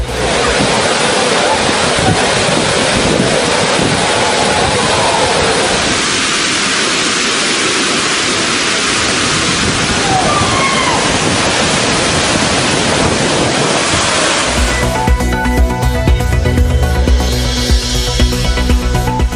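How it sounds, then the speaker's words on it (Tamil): Agaya Gangai waterfall in the Kolli Hills gushes after heavy rain, a loud, dense, continuous roar of falling water with wind buffeting the microphone, the texture shifting near the end. "தொடர் கனமழையால் செந்நிறமான கொல்லிமலை ஆகாய கங்கை அருவி ஆர்ப்பரித்து கொட்டும் அருவியை கண்டு மகிழும் சுற்றுலா பயணிகள்"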